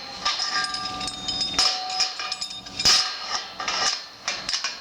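A hammer strikes a brand new metal clamp, swung harder, giving a series of bright ringing metallic hits with resonant clangs, close and loud, mixed with handling noise.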